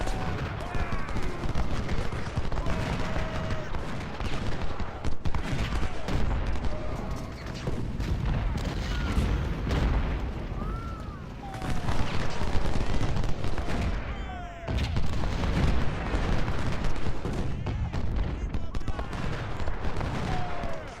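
Cannon and rifle volleys from an Ultimate General: Civil War battle at First Bull Run, dense overlapping gunshots and booming artillery crackling continuously, with a brief lull near the middle, under faint game sounds.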